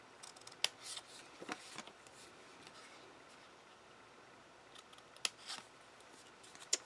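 Faint, sparse snips of ribbon scissors cutting ribbon for card making, with quiet rustling between, a few sharp clicks spread over several seconds in a quiet room.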